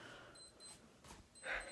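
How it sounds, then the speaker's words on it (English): Faint, high electronic beeps chirp intermittently over a quiet hiss, with a brighter, louder tone near the end. "It's still beeping."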